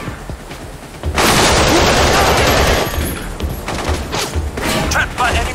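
Sustained automatic gunfire and bursts from enemies in Battlefield 2: Modern Combat on Xbox 360, erupting loudly after a second and continuing in dense volleys with booms and clatter.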